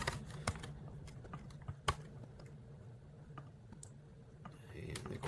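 Short bursts of typing on a computer keyboard, close and fairly quiet, with irregular key clicks and a few sharper taps, no talk.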